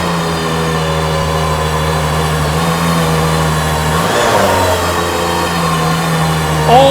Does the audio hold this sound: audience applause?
no